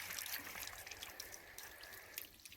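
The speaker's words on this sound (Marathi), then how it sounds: "देऊ जरा तोंडावर पाणी" Water poured and splashing over a goat being washed, a faint irregular trickle and spatter with small drips, quiet and without talk.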